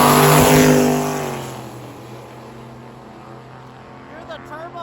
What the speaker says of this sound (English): Here's the turbo spool on the truck.